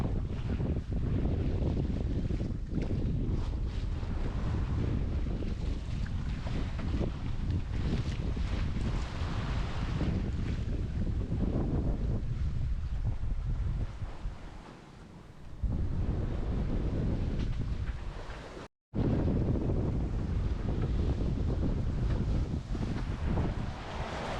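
Strong wind buffets the microphone in a steady roar over open water, dipping briefly before gusting back up; no voices.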